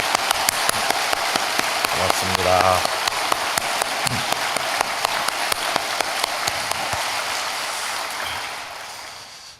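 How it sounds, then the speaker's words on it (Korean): A church congregation at Young Nak Presbyterian Church applauds during an early-morning worship service, with dense clapping running steadily throughout, a voice briefly speaking over it, and the sound tapering off at the end. "우리 감사의 박수를 한번 하겠습니다"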